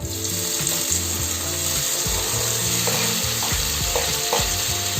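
Green chillies and tomatoes sizzle and fry in a pan for a masala rajma, a steady hiss with repeated scraping and stirring strokes close by, no voices.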